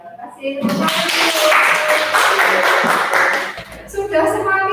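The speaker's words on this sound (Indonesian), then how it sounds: "Ya, kasih tepuk tangan." A classroom of students breaks into loud, sustained applause that lasts several seconds, with voices mixed in under the clapping.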